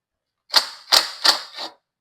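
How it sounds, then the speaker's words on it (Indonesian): An impact wrench loosens the exhaust bolt on a Vespa S 125 scooter in four short, loud, rattling bursts about a third of a second apart, close up, with silence before and after. "Kita buka kayak gini, baru kita tembak pakai impact teman-teman gitu."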